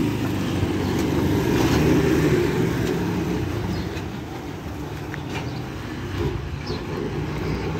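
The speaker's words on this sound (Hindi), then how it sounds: "आजकल तो ट्रैफिक मालों में भी बहुत ज़्यादा हो गई।" Road traffic rumbles on busy streets near a home, a continuous mid-level wash of passing vehicles that swells then eases, with no talking.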